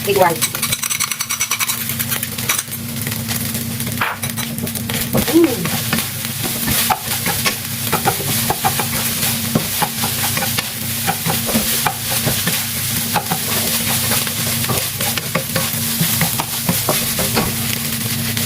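Egg white sizzling in a hot pan while being stirred for egg fried rice, a steady loud frying hiss with repeated scraping and clanking of a utensil against the pan throughout, close by.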